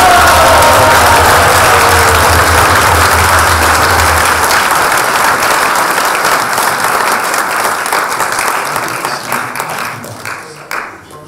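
A large audience breaks into loud, sustained applause after a performance, dense clapping that thins and fades out toward the end.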